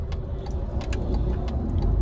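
A truck travels fast down the road, its loud, steady engine and road rumble filling the interior continuously, with faint rattles and jingles on top.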